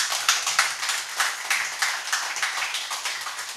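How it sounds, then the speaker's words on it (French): Scattered clapping from an audience applauding an author at a literary event aboard a train, a modest group of hands producing broadband irregular claps of steady moderate loudness for a few seconds, with no talk. "Veuillez applaudir pour notre auteur,"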